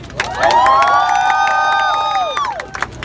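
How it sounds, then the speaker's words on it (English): Crowd at a voter parade cheering with a sustained, rising whoop of many voices for the African American senators, loud and close, with some scattered shouts fading near the end. "Give them a round of applause."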